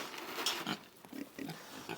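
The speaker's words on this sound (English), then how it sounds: "We got the 2 feeder pigs back in" A feeder pig being herded back into its pen gives a handful of short, close, low grunts and snuffles in irregular bursts, fairly quiet and with no talking.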